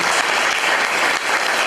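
Dense, steady applause from a church congregation during a sermon on winning souls, a loud wash of many hands clapping together without pause, no talking over it.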